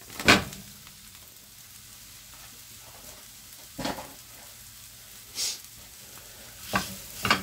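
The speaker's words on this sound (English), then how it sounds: "Now, I'm going to go straight in with the mince." Minced meat sizzles in a frying pan for chilli con carne, a steady low hiss broken by a few scraping stirs of a utensil, close and without talk.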